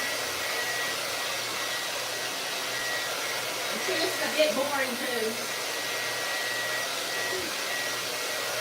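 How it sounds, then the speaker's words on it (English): A hair dryer runs steadily with a constant broadband whoosh throughout, and a person speaks briefly over it midway. "I am going to grab my hair dryer"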